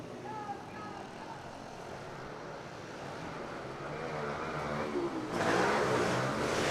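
Kawasaki pit bikes in a youth open race launch off the start at an indoor track, engines rising into a loud, building roar as the pack accelerates, with a commentator talking over the noise.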